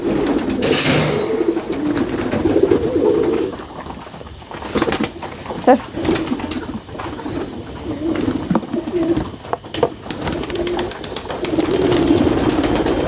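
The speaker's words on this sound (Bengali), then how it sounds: "খাবার দিয়ে কবুতরদেরকে দিই অবশ্যই খাবে" Pigeons coo repeatedly in soft, low throaty calls while being fed, close by and layered over rustling and shuffling, with a few sharper bird sounds in between.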